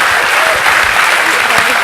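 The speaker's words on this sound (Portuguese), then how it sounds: "Salve as palmas" Audience at an innovation talk event bursts into loud, dense applause right after a presentation, a thick wash of many hands clapping close by.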